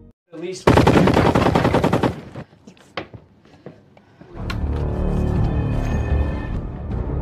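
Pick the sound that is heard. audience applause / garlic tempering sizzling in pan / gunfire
gunfire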